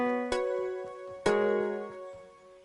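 Synthesized square-wave notes from Fortnite Music Blocks playing a section of a song, two sharp chord hits a second apart with long ringing sustain and a few softer notes, quiet and alone.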